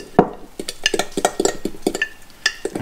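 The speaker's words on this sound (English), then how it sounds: "You gotta whisk it." Whisking sourdough starter into a paste in a bowl, a quick irregular series of close scraping clinks and taps as the whisk strikes the bowl, sounding with no voices.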